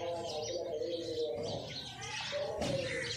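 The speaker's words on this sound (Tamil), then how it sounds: "சிட்டுக்குருவிக்கு உணவு கொடுத்தல்." Small birds being fed, sparrows among them, chirp and tweet steadily in a busy, overlapping chorus, with a soft cooing note underneath and constant light background noise.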